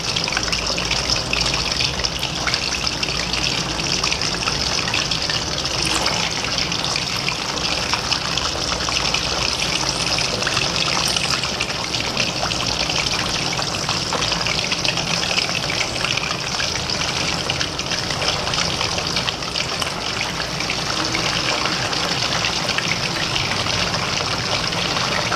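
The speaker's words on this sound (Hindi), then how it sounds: "आपने तेज़ आंच पे फ्राई करना है, क्योंकि अगर आप इसको हल्की आंच पे फ्राई करेंगे तो चिकन नहीं छोड़ देगा।" Chicken fries on high heat in a karahi, a loud continuous hiss and crackle of sizzling oil that holds steady from start to finish, with no talking.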